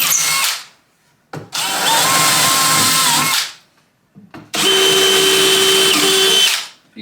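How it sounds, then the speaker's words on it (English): Power drill pre-drilling screw holes into a cabinet side panel, two sustained whirring bursts of about two seconds each, separated by a short pause, loud and close with no talking. "First thing you want to do is pre-drill a few holes for your screws."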